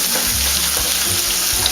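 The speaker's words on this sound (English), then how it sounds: "So you just let the onion saute for a bit." Onion sautéing in a frying pan previously used for frying patties, a loud, close, steady sizzle with faint stirring scrapes and no talk.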